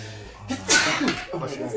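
A single sharp sneeze, close by, followed by a brief voice.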